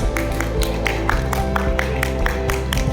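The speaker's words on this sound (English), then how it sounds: "Give a big round of applause, audience." An audience applauds at a school's annual prize distribution, with rhythmic clapping and musical tones underneath, loud and continuous.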